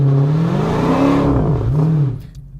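A Dodge Challenger SRT Hellcat revs hard while warming up its tires. The loud, close engine rises and falls in pitch through a couple of throttle swells, then cuts off abruptly just before the end.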